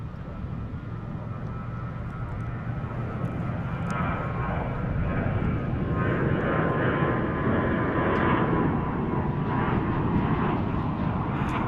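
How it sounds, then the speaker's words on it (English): Lufthansa Boeing 787 Dreamliner jet at DFW International Airport in Texas, a steady broadband engine roar that swells slightly toward the middle and stays loud and continuous throughout, with no talk over it. "Here comes Lufthansa, the Dreamliner on the way."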